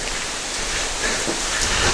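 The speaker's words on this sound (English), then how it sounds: "now it's pouring rain, and the camera's getting all wet" Heavy rain pours down at a Florida state park campsite in a dense, steady hiss, close and loud with no gaps, drops pattering on nearby surfaces.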